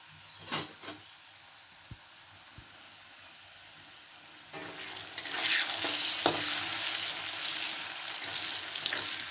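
Potatoes frying in a pan with a little turmeric and salt, giving a steady sizzle that grows louder about halfway through, with a few soft stirring knocks and clinks near the start.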